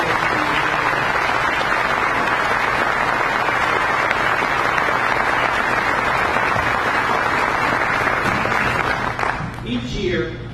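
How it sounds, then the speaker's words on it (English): A big round of applause for the graduating class of 2014 at a class rings ceremony, dense steady clapping from a large crowd that runs continuously before thinning out near the end as a voice starts to speak. "I think a big round of applause for the class of 2014"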